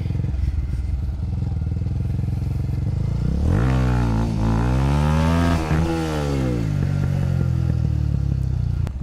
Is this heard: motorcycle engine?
yes